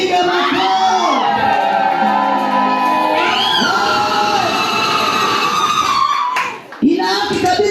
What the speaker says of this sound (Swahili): Hebu shangilia vizuri, piga makofi.